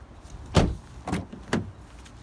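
A few short mechanical clunks close by as the door of a 2010 Mazda 3 in a junkyard is unlocked and pulled open, in an otherwise quiet setting.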